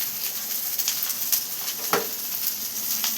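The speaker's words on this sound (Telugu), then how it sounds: "వేసుకొని ఇవైతే చిట్టపట్టలాడుతున్నాయి" Soft, steady sizzling and crackling of spices frying in hot oil on a stove, with a few sharper pops, close and fairly quiet.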